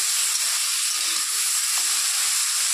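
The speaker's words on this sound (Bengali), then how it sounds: "ভেন্ডিটা আগে ভেজে নিই" Okra sizzles steadily as it fries in a pan for a vegetarian dish, a dense, even hiss that stays close and continuous with no talking.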